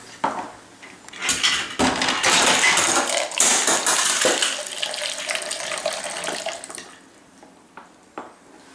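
Pop pours from a can through a funnel into a cup in a simple homemade machine, a steady splashing, gurgling stream lasting several seconds before tapering off, close and clear with no talk.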